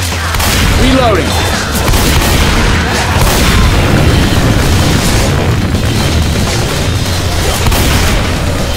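Gas tank exploding during a Left 4 Dead 2 shootout in the Dead Center campaign, a loud continuous boom and roar with rumbling blasts and gunfire layered throughout, dense and sustained.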